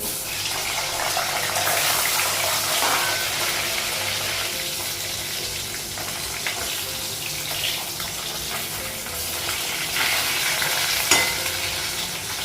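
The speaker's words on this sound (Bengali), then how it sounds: "মাছগুলো ভাজা হয়ে গেছে" Loud, dense sizzling of fish frying in hot oil fills the clip, a constant crackling hiss with faint clatter now and then.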